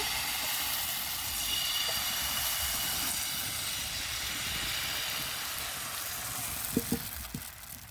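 Batter for patishapta pitha meeting an oiled hot pan, giving a steady close hiss and sizzle that holds throughout, with a few soft knocks near the end.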